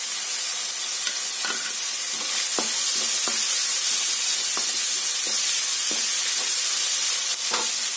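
Ginger, green chilli and coriander stems fry in a pan for a mochai masala, a constant loud sizzle and hiss with occasional soft stirring taps, no talking.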